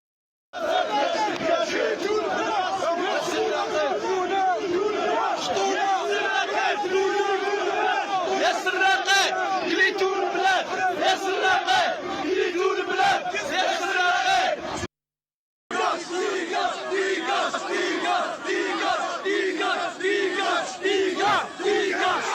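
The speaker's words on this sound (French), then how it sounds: "les images de Louisa Hanoun et de Touati huées par la foule" A large crowd boos and jeers at politicians during a popular protest in Algeria, a dense, loud, sustained roar of massed voices with a brief cut before the booing resumes.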